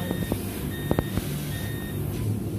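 An alarm on a factory component feeder machine signalling an empty component, giving a few short electronic beeps over a steady mechanical hum from the machinery.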